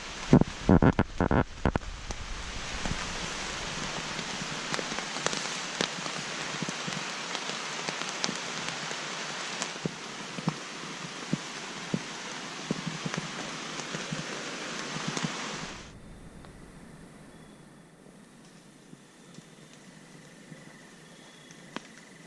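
Rain patters steadily on a tarp fly over a camp for about sixteen seconds, dense and close with occasional louder drops, then stops abruptly, leaving only faint outdoor quiet.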